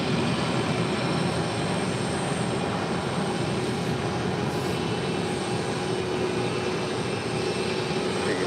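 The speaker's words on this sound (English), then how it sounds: "the DuPont Cargo Airline 747 now starts her taxi over" A DuPont Cargo Boeing 747 taxis at LAX, its jet engines giving a steady, loud broadband roar that holds evenly throughout without speech.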